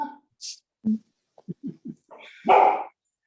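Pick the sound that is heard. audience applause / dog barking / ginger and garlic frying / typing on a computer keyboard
dog barking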